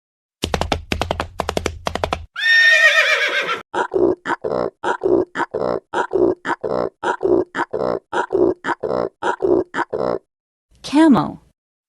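A horse gives a loud, close whinny, followed by a long run of rapid, evenly spaced pulsed snorting calls and a final short cry at the end.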